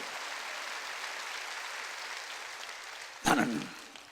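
A church congregation at a Wednesday worship service claps together, a soft continuous wash of applause lasting several seconds before a voice briefly cuts in near the end.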